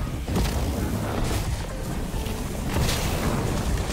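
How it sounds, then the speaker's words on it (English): A deep, rumbling explosion in the dark fantasy game Dark and Darker, with dense, booming noise that persists across the whole stretch. "Watch the explosion damage."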